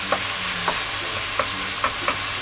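New onions, full of moisture, frying over strong medium heat in a pan with nearly cooked ground meat, a steady close sizzle broken by several distinct scraping stirs at irregular intervals.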